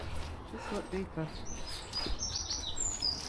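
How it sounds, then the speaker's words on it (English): Birds chirp and tweet outdoors beside a river pool by trees, with a few short, bright calls, some near and some farther off, under a man's brief speech and steady background noise. "Birdsong."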